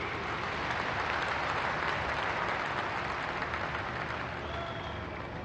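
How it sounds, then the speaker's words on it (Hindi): Sustained, dense applause from a large crowd as a commemorative postage stamp is unveiled by the Prime Minister at a public ceremony in Jammu and Kashmir, loud and even throughout without speech. "आपकी जोरदार तालियों के बीच"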